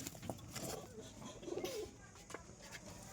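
A Panjabi pigeon gives a low, soft coo at close range, a short warbling phrase against a faint background hum.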